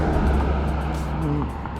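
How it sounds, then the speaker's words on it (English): A car passing by near a calm lake during bobber fishing, a steady broad rumble of tires and engine that holds fairly loud for a moment, then eases slightly as it goes on. "Car passing by."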